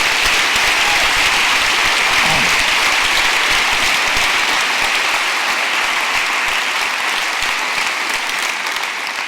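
Audience at a Springdale Public Schools district back-to-school faculty meeting applauding, a loud, dense and steady round of clapping that carries on for the whole stretch and fades only slightly toward the end.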